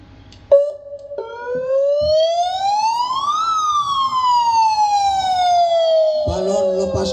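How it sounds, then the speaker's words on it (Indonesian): A siren replaces an explosion at an Indonesian August 17 flag ceremony: a single loud tone steps on, rises slowly, then falls in a long sweep, with crowd noise and a burst of sound near the end. "Suara ledakan diganti dengan sirine."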